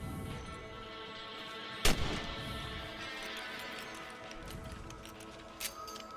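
Two sharp gunshots while shooting rabbits in Red Dead Redemption, the first loud with a short ringing tail, the second fainter a few seconds later, over quiet ambient background.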